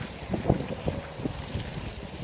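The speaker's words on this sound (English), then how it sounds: "How windy is it here today?" Gusty wind buffets the microphone in low, uneven thumps, rumbling close and fairly faint with no voices.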